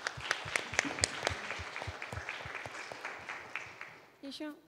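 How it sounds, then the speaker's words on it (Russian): Audience applause at a plenary session of a conference, scattered claps that thin out and fade over several seconds before a voice starts speaking. "Так что еще раз аплодисменты."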